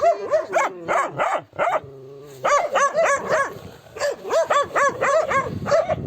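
Aggressive dogs bark in rapid, loud bursts close by, with quick repeated barks broken by a short pause and a brief whine before the barking resumes.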